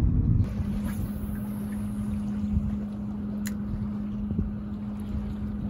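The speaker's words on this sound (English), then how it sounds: "It's windy and I'm on the ocean" Steady ocean-side wind buffeting the microphone on a beach with a low constant hum, a continuous outdoor roar with a few faint knocks.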